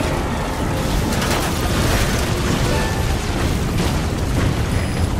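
A Metal Gear Solid V airstrike hits as a continuous loud roar of blasts and rumbling explosions, dense and unbroken, with no speech.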